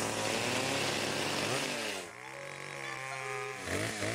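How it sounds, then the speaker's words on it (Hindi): A saw grinds through a block of ice in a Hindi-dubbed cartoon, a loud continuous rasping with a droning buzz that dips partway, then swells again near the end. "शायद कोई दूसरी आरी की जरूरत पड़ेगी"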